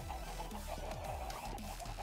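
Chickens clucking in the Minecraft video game, a few short, close, repeated clucks over a steady background hum, with no talk.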